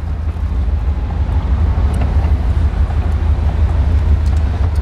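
A 1955 Ford Thunderbird on a test drive gives a steady low engine and road rumble with constant wind and road noise, even and moderately loud, and no voices.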